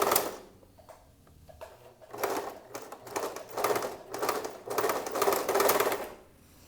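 Sewing machine stitching a trouser pocket on dress pants, its rapid mechanical chatter running in several bursts that grow louder and denser toward the end, with short pauses between runs.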